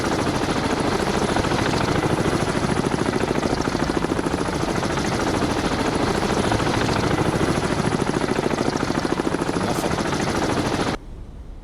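Helicopter in the submarine game Cold Waters: continuous loud rotor-and-engine drone with rapid chopping pulses, steady for about eleven seconds before cutting off abruptly.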